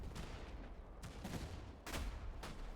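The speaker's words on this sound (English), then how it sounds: "These cannons are brutal." Field artillery cannons fire in a British army battle video game, with a rapid series of loud booming blasts, including a heavy volley near the end, and no talk.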